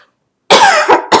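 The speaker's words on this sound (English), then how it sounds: "I apologize for the coughing" Two or three harsh, loud coughs burst out close to the microphone after a moment of silence, each short and separated by brief pauses.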